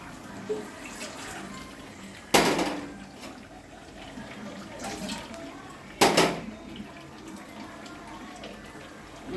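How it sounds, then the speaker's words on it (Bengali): Water poured into a pot of chicken curry with poppy seed paste, two sharp splashing pours standing out over quieter kitchen clatter, fairly faint overall. "এবার আমরা জল দিয়ে দিচ্ছি আমি জল দিয়ে দিচ্ছি"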